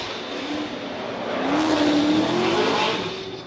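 A Roush-powered Nissan S13 drift car at Formula Drift qualifying on the Long Beach, California street course screams past, engine revving hard and rising with tire squeal, loud and close before fading slightly.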